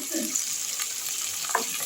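Okra, potato and tomato fry with ground coriander and Kashmiri chilli in a pan, a steady close sizzle with faint stirring scrapes and a brief clink near the end.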